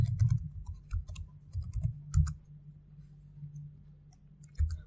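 Quiet, close keystrokes on a computer keyboard come in irregular clusters as an email and password are typed.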